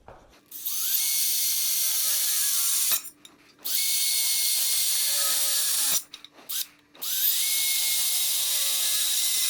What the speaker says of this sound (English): so we go back to drilling.